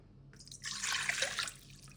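Water is poured into a dough mixer for pizza dough, a close, steady splashing gush that lasts about a second before fading out.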